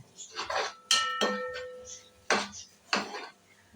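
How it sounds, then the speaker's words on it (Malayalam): A spoon stirs macaroni in a metal pot, giving a few separate scraping clinks and one ringing metallic knock spaced across a few seconds. The sounds are close and fairly quiet, and there is no talk. "നല്ലതുപോലെ ഇളക്കി കൊടുക്കാം"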